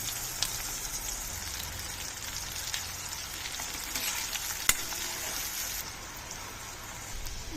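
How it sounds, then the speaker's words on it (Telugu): Bitter gourd pieces deep-fry in hot oil on a stove, giving a continuous bubbling crackle and sizzle at even loudness, with one sharp click partway through and no talking. "నేను డీప్ ఫ్రై చేస్తున్నాను."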